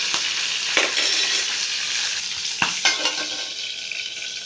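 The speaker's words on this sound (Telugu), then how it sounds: "ఇవి కొంచెం మనకి ఫ్రై అవ్వాలి" Green chillies frying in hot oil in a pan, a steady close sizzle broken by a few sharp stirring scrapes, with no talk.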